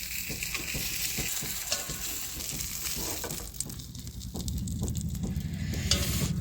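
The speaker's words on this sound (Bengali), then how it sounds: "ব্যাস মাছ ভাজা কমপ্লিট" Steady crackling sizzle of fish frying in hot oil, close by, with a few scraping stirs and bursts of spatter, no voices.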